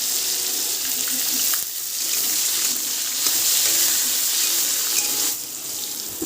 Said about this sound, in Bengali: এই যে গাজর লম্বা লম্বা করে কেটে রেখেছিলাম, এবার এগুলো দিয়ে দেবো।